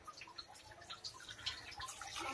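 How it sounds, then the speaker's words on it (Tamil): A tumbler of water trickles and drips into a pressure cooker holding half a kilo of jaggery, a light, close, uneven splashing with no one speaking. "இப்போ வந்து 1 டம்ளர் தண்ணி இதில் ஊற்றுறோம்."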